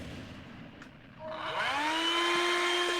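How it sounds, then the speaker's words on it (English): A steady whirring motor hum rises in pitch and settles into a loud, continuous drone, like a vacuum cleaner starting up nearby. "Go get a vacuum cleaner noise."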